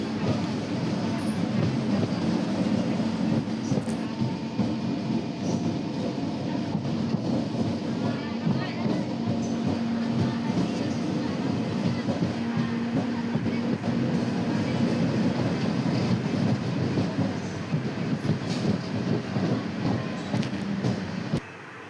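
A passenger train runs between Guntur and Vijayawada, with a steady loud rumble and rattling of carriages throughout, and faint voices inside the coach.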